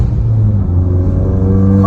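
A turbocharged 2016 car with a fully built Turbonetics setup and no burble tune idles and revs with a loud, steady low engine rumble close by, rising slightly in pitch at the very end.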